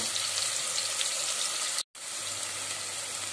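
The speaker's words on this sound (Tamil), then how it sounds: "வெங்காயம் லைட்டாக வதங்கிடுச்சு" Onions sautéing in hot oil in a pan for chicken pulav give a steady, soft sizzling hiss that runs continuously, briefly cut off by a short silent gap.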